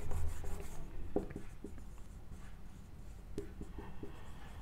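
Marker or chalk scratches and taps on a board as a mathematics teacher writes, soft, close strokes over a low room hum.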